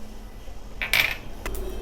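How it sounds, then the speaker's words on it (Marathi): Mustard seeds roast in a kadhai while making metkut, giving a few sharp crackling pops and clinks, close and clear over a quiet background hiss. "मोहरी सुद्धा आता कढईत तडतडू लागलेली आहे"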